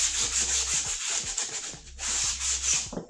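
Wood being sanded by hand for a DIY magazine rack, close and brisk rhythmic scratchy strokes that pause briefly in the middle and then resume.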